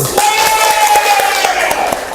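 A school class claps hands together, a dense burst of clapping with quick percussive hits close by, under a steady tone and some voices.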